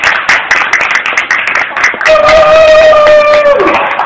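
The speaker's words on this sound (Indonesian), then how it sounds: "Tepuk tangannya untuk Medan, mana tepuk tangannya?" Audience applause at an Earth Day 2014 event, a burst of scattered hand claps from a crowd, fairly loud, with a sustained tonal sound joining in the second half.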